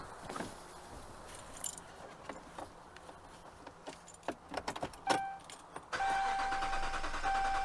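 Keys jangle and rattle near the ignition of a Hemi engine vehicle, then the starter cranks the engine over with a steady, loud whir while the fuel pump fuse is removed, so it does not fire.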